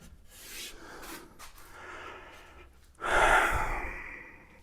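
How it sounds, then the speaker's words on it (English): Slow scraping strokes rasp against wood filler on an antique wash stand, soft at first and then a louder, rougher stroke near the end, with no voices. "just sanding this wood filler down"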